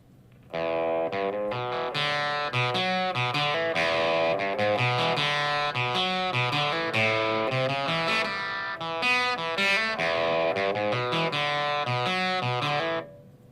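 Electric guitar through a Fender Mustang II amp with distortion turned down, playing a steady riff with lighter overdrive, slightly chorused and clean-edged, loud and continuous before cutting off at the end.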